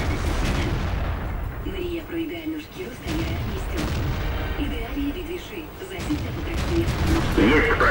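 Tank gunfire in the video game World of Tanks during a team battle on the Ruinberg map, repeated heavy booming cannon shots with mechanical rumble, mixed with voices talking over it.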